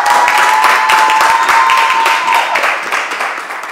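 A lively audience bursts into loud, sustained applause, dense clapping close up that gradually thins and fades toward the end.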